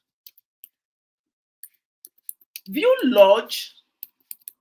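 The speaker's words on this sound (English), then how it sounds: "when I type in Archview Lodge Nursing Home Island" A search is typed on a computer keyboard: a few soft, scattered key clicks come before and after a short spoken phrase in a quiet room.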